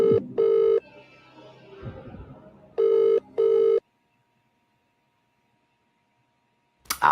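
A telephone rings twice with paired double-burst electronic trills, comedy-sketch setting, followed by silence and then a brief click at the end, with no talking.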